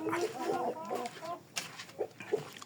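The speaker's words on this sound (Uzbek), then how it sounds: "Bu jo'ja tovuq" Chicks and hens with yellow beaks and yellow feet cluck in short bursts, with a voice talking over the first half before a few sparse clucks follow on their own.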